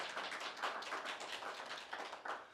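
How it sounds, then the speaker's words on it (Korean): Audience clapping at a policy forum, a steady dense patter of many hands, moderately faint and continuous throughout with no talk. "박수 한번 쳐주십시오."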